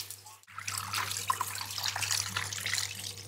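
Water runs from a tap to fill vessels for watering plants, a splashing, gurgling stream that starts after a brief pause and continues unevenly at close range.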